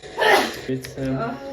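A sneeze bursts out close by at the start, followed by a man's speech in a room.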